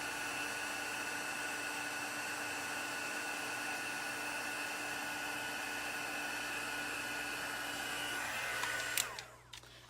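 A heat embossing tool blows steadily to melt embossing powder, a loud, even whirring hiss that holds for about nine seconds before cutting off abruptly near the end.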